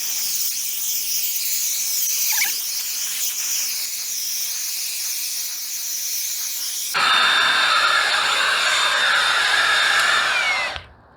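A Kobalt 24V brushless shop blower runs with a steady airy hiss and whine, then jumps to a louder, higher-pitched rush partway through before cutting off abruptly.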